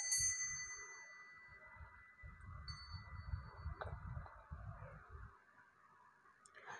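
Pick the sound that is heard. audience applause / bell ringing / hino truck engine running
bell ringing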